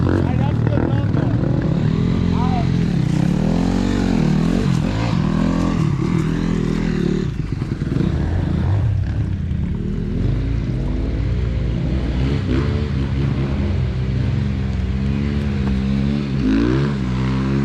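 Chinese pit bike engine revving loudly and continuously nearby, the pitch rising and falling through repeated throttle blips, while people talk over it throughout.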